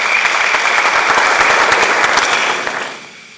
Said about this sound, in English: Kofi Mensah, shall we do a big round of applause for him?